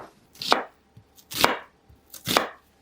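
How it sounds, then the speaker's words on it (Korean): Onion diced into cubes with a knife on a cutting board: three distinct, slow, close chops with short pauses between them and no voices. "양파는 감자와 같은 크기로 썰어 줄게요"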